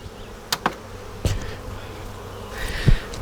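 Honey bees buzz steadily around open beehives during a strong honey flow in swarm season, a dense close hum with a few sharp knocks and clicks from the hive equipment.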